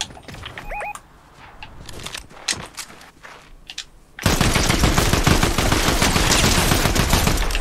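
Gunfire in the video game Fortnite, with scattered single shots over quiet game sounds, then a loud sustained burst of rapid automatic fire that dominates the second half.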